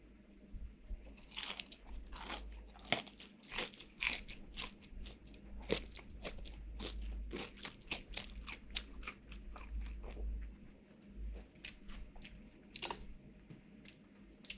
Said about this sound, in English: You guys want to hear the crunch?